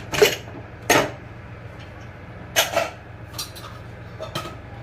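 Metallic clanks and rattles while a pressure cooker lid is opened after its whistles, several sharp knocks of metal on metal spaced unevenly, close by in a quiet kitchen.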